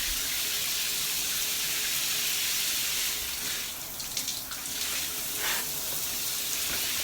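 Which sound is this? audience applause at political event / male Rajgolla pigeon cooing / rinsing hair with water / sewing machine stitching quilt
rinsing hair with water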